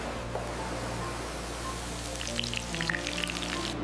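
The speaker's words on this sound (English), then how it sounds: "In this dish, onions are slowly nurtured over low heat until they soften and give up their moisture." Onions for sofrito softening in a pan over low heat give off a soft, continuous hiss and gentle sizzle, with faint crackles rising toward the end, close and steady with no talking.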